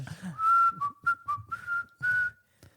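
A person whistles a short tune up close, a string of clear sustained notes broken by brief pauses, with faint breathy noise between phrases.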